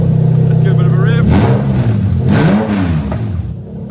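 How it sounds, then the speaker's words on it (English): Toyota 1JZ-GTE engine swapped into a Toyota Chaser GX100, idling near 1,200 RPM and then revved twice, the pitch rising and falling loudly up close and settling back toward idle. "Let's give a bit of a rev."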